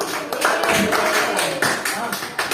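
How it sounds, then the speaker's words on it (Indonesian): Students in a classroom in Manado clap for a student group after its coding and artificial intelligence presentation, a close, busy patter of many hands that holds steady for a couple of seconds. "tepuk tangan untuk kelompok kami"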